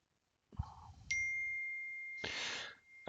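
A phone's text message notification rings out in a bright, sustained ding that holds for over a second, then a second ding follows shortly after, both clear against near silence with a faint rustle before.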